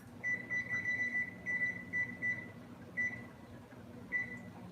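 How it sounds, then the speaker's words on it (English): A kitchen timer on a stove is being set for 12 minutes to cook rice, giving a string of short, high electronic beeps in uneven clusters over a low background hum. "set the timer for 12 minutes"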